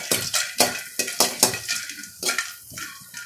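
Dried red chillies dry-roasting in a pan, stirred with a run of close, sharp scraping and clattering strokes in an uneven rhythm; no voices.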